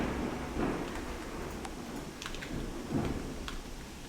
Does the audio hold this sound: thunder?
yes